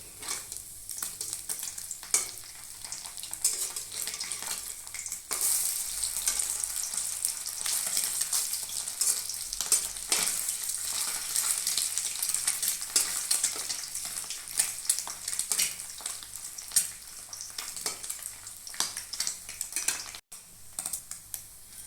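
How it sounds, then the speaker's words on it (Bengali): Small fish deep-frying in oil in a pan give a constant close sizzle with crackling pops and occasional utensil taps, heard alone without speech. "মাছগুলো এক পাশ ভাজা হয়ে গেছে, এবার উল্টে দিচ্ছি।"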